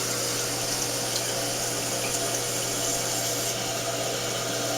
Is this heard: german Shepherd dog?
no